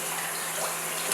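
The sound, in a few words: water rinsing dried afang leaves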